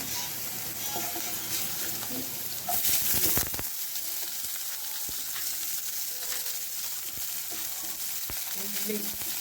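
Garlic fries in a pan while being stirred, giving a steady close sizzle with scraping strokes and a louder crackling burst early on.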